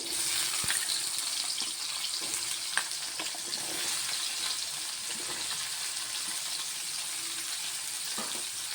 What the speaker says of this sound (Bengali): তারপর আলুটাকে ভেজে নেব।